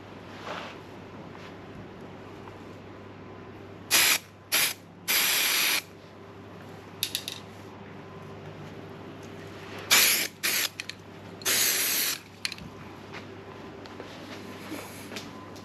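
A spray gun lays a dry coat of paint over a boat surface in several short bursts, each lasting about a second and grouped in twos and threes, over a low steady background hum.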